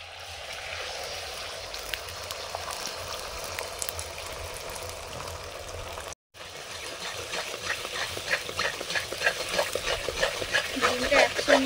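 Eggs sizzle in refined oil in a pan, a steady soft frying hiss that crackles louder and more busily toward the end after a brief cut.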